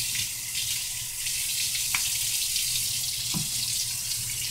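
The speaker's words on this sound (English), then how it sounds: "So I'm going to let my elf run some water from the tap." Lukewarm water runs from a kitchen tap into a container for bread dough, a steady, even rush with a couple of brief splashy clicks partway through.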